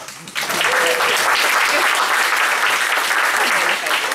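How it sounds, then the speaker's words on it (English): Steady, loud applause from a community meeting audience in Chicago's 49th Ward, a continuous wash of many hands clapping that swells up after a brief quieter start and holds without talk. "give yourselves a round of applause for showing up"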